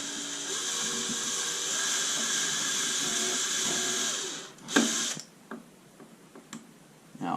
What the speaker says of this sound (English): we are going to drill our first pilot hole, which will be 1/8 of an inch